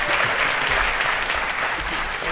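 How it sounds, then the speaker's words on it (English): An audience at a skeptics' conference breaks into steady, loud applause, a dense wash of clapping from a large crowd with no talk over it. "yes, an applause"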